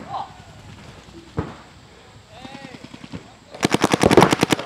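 Paintball markers firing during a tournament paintball game: a rapid close burst of about a dozen sharp pops near the end, after scattered single shots and voices calling out.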